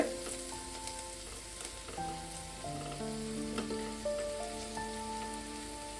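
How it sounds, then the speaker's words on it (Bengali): Chopped garlic frying in hot oil, a soft continuous sizzle with light crackles, fairly quiet, while sustained musical tones play over it. "আমি 10-12টা রসুন কুচে নিয়েছি, রসুন কুচিটা দিয়ে দিলাম"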